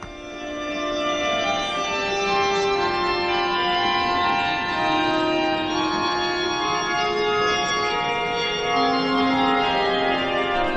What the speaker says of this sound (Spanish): Este es el sonido del órgano de la catedral.